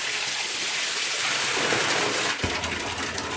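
Water gushes hard from a plain pipe at a Barbados spring, a continuous close splashing roar with a brief thump partway through as the flow is disturbed.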